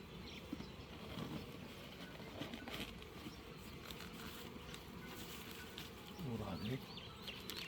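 Honeybees buzz continuously around a hive outdoors, a faint, steady hum with individual insects passing close at moments, under low background noise.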